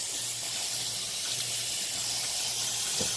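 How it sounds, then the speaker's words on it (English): Live blue crabs being rinsed under a running kitchen tap: a steady, loud hiss of flowing water with faint clatter as the shells are handled, no talking. "I'm just taking these and I'm just giving them a final rinse."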